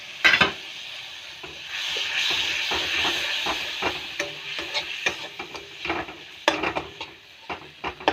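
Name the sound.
masala with chilli and coriander frying in pan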